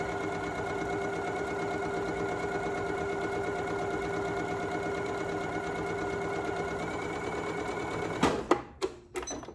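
A Janome Memory Craft MC9450 sewing machine stitches a zippered pouch, a close steady whirring hum with rapid needle ticking that runs continuously, then stops, followed by a few sharp clicks and knocks.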